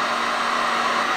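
A heat gun runs steadily, blowing with a constant, close, even airy roar and no pauses or talk.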